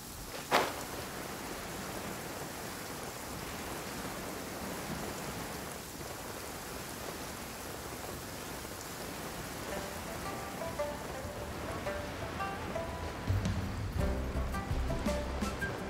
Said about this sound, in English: my game was in nighttime mode, and it was raining